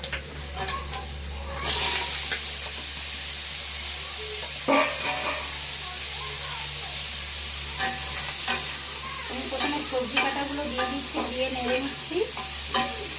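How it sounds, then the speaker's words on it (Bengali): Tempering spices hit hot oil for pea greens cooked with small shrimp, breaking into a loud, continuous sizzle with spoon-stirring scrapes over a low steady hum. "আমি ফোড়ন দিয়ে শাক বসিয়ে দেবো তার জন্য দিয়ে দিচ্ছি ফোড়ন"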